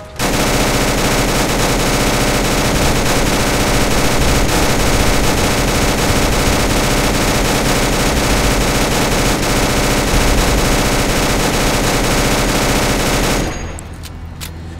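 Marksman Rapid WH-77 LSW rifle in Fallout 4 fires a long, loud, continuous stream of rapid automatic shots for about thirteen seconds, then cuts off abruptly into quiet.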